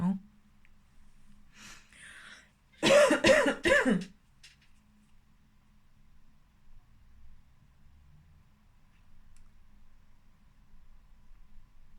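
A short cluster of rough, harsh coughs close up, loud against an otherwise quiet, faintly humming room.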